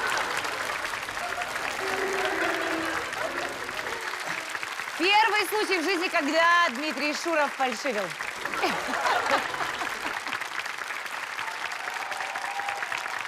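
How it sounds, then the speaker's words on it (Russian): Studio audience applause on an evening talk show with pianist Dmitry Shurov, a steady broadband clapping wash running the whole time, with a voice speaking over it midway. "Аплодисменты."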